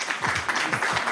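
Audience applause welcoming presenters at a medical talk on wound care and hyperbaric oxygen therapy, steady dense clapping from a room of people throughout.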